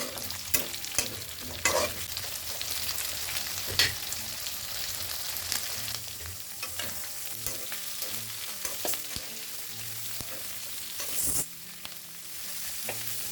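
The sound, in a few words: frying green chillies and onion in oil with chicken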